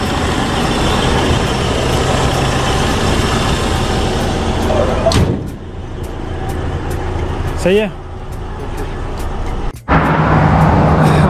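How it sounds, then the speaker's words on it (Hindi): A vehicle engine runs loud and close, rumbling steadily as it moves off, with brief dips in level and someone talking over it. "अभी गाड़ी तो हो गया है स्टार्ट और निकलते हैं अभी।"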